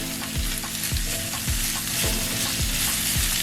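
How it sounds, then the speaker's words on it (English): Seasoned vegetables with a pinch of salt and oregano sizzle in a pan over medium flame, a steady close frying hiss broken by regular stirring scrapes about every half second, with no talk. "and just a little salt, about a pinch. Just let this saute."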